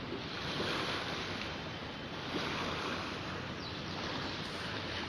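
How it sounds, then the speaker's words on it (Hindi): Waves on the Narmada river at Tilwara Ghat in Jabalpur, a steady broadband wash of water churning without pause, with wind buffeting the microphone throughout. "ये देखिए कितनी सुंदर लहरें हैं"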